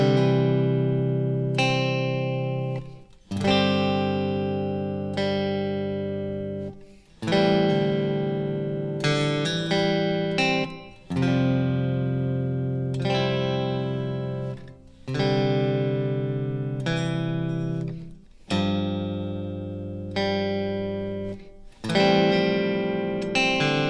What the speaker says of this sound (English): now you'll hear how those embellishments and open strings create that evocative Americana sound